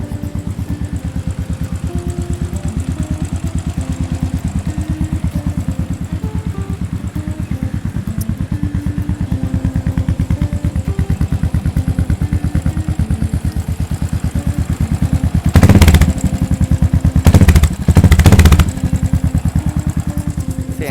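A yellow limited-edition 2016 Royal Enfield GT535 motorcycle with about 8,000 km idles with a steady, loud single-cylinder thump. Near the end, three short throttle blips rise sharply above it.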